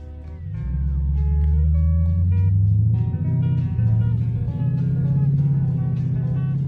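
Deep, loud exhaust note from a Lexus IS 500 fitted with an A'PEXi N1 titanium exhaust, a rich bass drone that climbs and falls in pitch as the engine revs through gear changes, heard up close with no talk.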